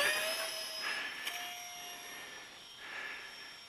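Small DIY electric model aircraft motor running at full throttle, a faint high-pitched whine with shifting tones as it flies at a distance, fairly quiet throughout.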